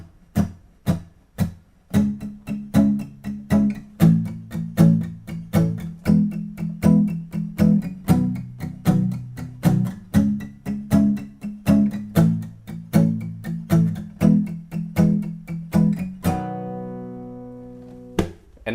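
Palm-muted acoustic guitar strums the pre-chorus chords in a steady, choppy rhythm, close and fairly loud, before ringing out on an open, sustained chord near the end.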